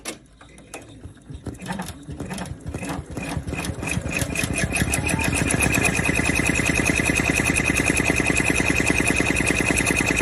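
A computerized embroidery machine finishes a short run of satin stitching in the last thread color, a fast, steady mechanical chatter that builds from sparse stitching into a dense, even rhythm, close and continuous.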